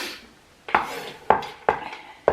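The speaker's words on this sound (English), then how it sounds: "I'm going to chop them up so that they're smaller pieces." A knife chops food on a chopping board while pumpkin cake ingredients are prepared, giving four sharp, close knocks at uneven intervals with short ringing tails between them.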